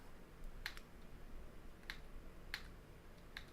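Computer keyboard keys tapped in the Steins;Gate 0 game: four sparse, crisp clicks spaced unevenly over a quiet background hiss.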